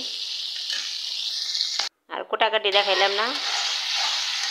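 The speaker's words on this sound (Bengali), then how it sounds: "বাটা মাছ আজকে রান্না করা হইব। ওই যে ভাজা নিতেছি" Bata fish fry in a pan with a steady, close oil sizzle that runs throughout, broken by a brief dropout and a short burst of spoken words over the frying.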